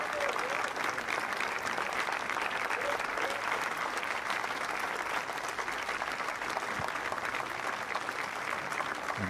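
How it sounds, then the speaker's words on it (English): Generous applause for Diede de Groot after she defends her Ladies' Wheelchair Singles title at Wimbledon 2018, a steady, dense wash of clapping from a large crowd that holds evenly throughout. "Enjoying generous applause"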